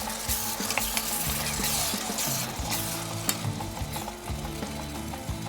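Onions and tomatoes sizzling in hot oil for a Kazakh eggplant salad, a continuous close frying hiss with scattered crackles and a few clinks of a utensil stirring the pan.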